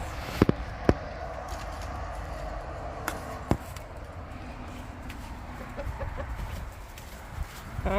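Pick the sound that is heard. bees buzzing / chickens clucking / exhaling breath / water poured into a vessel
chickens clucking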